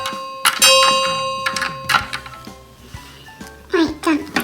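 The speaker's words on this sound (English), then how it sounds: "George and Peppa, ring the bell." A small bell on a toy boat rings in several bright, quick dings with lingering tones, near and clear, between bursts of children's chatter.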